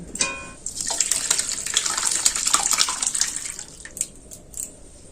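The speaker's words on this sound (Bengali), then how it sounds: "আমি এইখানে একটা সুতির কাপড় নিয়েছি এর মধ্যে কিন্তু আমি ঢেলে দেব" Curdled milk pours and splashes through a cotton cloth to strain off the whey for chhena. A close, gushing trickle runs for several seconds, then thins to a few drips.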